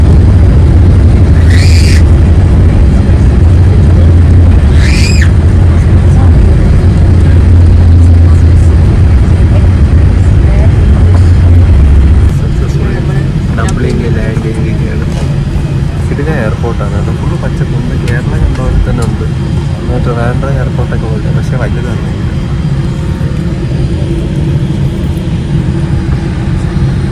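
Inside the cabin of a Qatar Airways airliner on its landing approach to Dublin airport, a steady, loud engine drone fills the clip and eases to a lower roar about halfway through.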